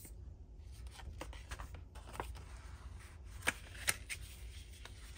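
Scissors cutting a circle out of patterned 6x6 craft paper, with close, soft snips and paper rustles in an irregular rhythm, two sharper clicks standing out, and no talk.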